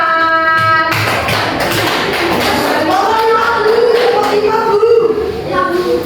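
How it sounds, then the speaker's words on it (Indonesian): A class claps for group 4 in a classroom, a dense burst of many hands patting together for several seconds, fairly loud, with voices mixed in. "tepuk tangan buat kelompok 4"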